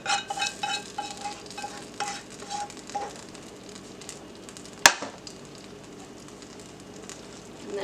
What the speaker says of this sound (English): And then just stir it up.